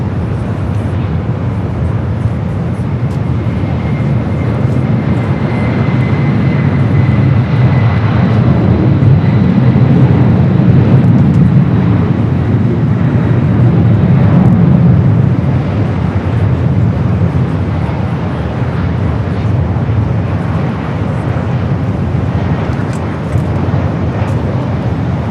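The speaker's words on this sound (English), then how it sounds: "Cargo Lux retro livery now rolling down at 25" A Cargolux cargo jet in retro livery rolls down runway 25 at Los Angeles International Airport, its loud engine roar swelling in the middle and then easing off as it continues down the runway.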